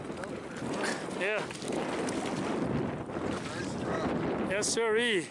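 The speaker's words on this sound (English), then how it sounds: "Tough wind, but still catching it." Strong wind buffeting over the San Juan River during spring trout fly fishing, a steady broadband rush of wind noise filling the whole clip, with a few brief spoken remarks and whistle-like tones near the end.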